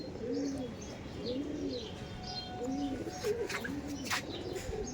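Pigeons cooing in a loft of Madras pigeons, repeated low rolling coos in a steady rhythm, close by, with a few light chirps and rustles around them and no talk.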